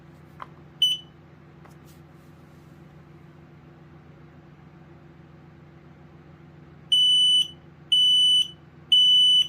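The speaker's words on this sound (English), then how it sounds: "we'll go ahead and test this, and you'll get to hear the smoke and carbon monoxide voices" A short chirp, then three loud, piercing beeps from a Kidde Trusense smoke and carbon monoxide alarm being tested, in an even rhythm over a low steady hum; no voice warning is heard.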